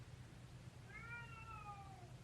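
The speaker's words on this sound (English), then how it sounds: "my cat is behind me meowing" A cat meows once in a long drawn-out cry, fairly faint and from a little way off, over a quiet room hum with no talk.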